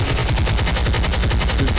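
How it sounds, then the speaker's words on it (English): Rapid bursts of gunfire crackle in a steady, dense rhythm, like automatic weapons firing continuously and loudly for the whole stretch, with no voices over it. "gunshots, man."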